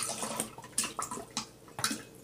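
Water poured out of a bottle for a libation, splashing in short intermittent bursts at close range with no talk over it.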